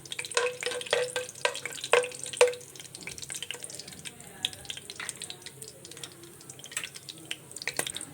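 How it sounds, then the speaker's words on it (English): Whole spices—star anise, cinnamon, cardamom and cloves—crackle in hot oil for a biryani, with sharp pops clustered in the first couple of seconds, then a softer, quieter sizzle with scattered crackles continuing to the end. "And to this heated oil I am going to add all the ingredients like star anise, cinnamon, cardamom, cloves and all."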